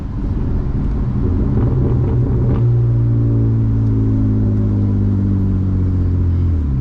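A BMW E36 328i with a loud exhaust rumbles under acceleration, then the revs drop and hold as a steady, droning engine tone for a rev match, heard up close with no speech.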